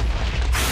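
A blocky in-game explosion in Minecraft Sky Factory 3 hits about halfway through as a sudden broadband burst, loud and close, following a low rumbling stretch.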